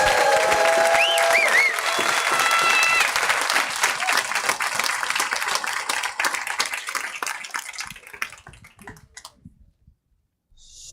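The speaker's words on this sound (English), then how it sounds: "Big round of applause for all of our retirees" A crowd at a school district governing board meeting applauds retirees, loud sustained clapping with cheers and whoops early on, gradually thinning to scattered claps before fading to near silence.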